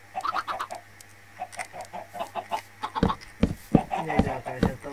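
A Minecraft chicken gives a run of short clucks and squawks in a farm-building game session, moderately loud over a low background hum.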